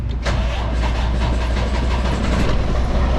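A diesel engine, fitted with a bad injector and a failed cylinder liner, cranks and catches right away, settling into a loud, steady, rattling idle close by.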